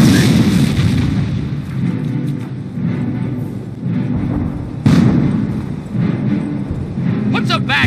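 An artillery battery fires in Company of Heroes, a series of heavy booms over a dense wartime soundscape, with radio-style voice lines spoken over the rumble.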